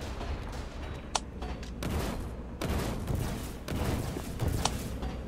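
Bursts of video-game gunfire aimed at bunkers: several volleys of rapid shots with sharp individual cracks, loud and close, stopping and starting across the stretch with no talk.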